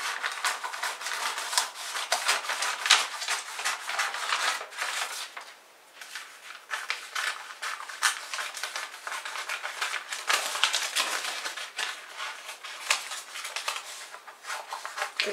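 Scissors snip and rustle through paper for a roughly cut dress pattern, with irregular crisp cuts and paper handling continuing close by throughout and a brief pause midway.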